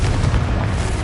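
A heavy booming blast from the Confringo fire spell in the Hogwarts Legacy game, loud and dense, filling the whole moment as one sustained rumbling explosion.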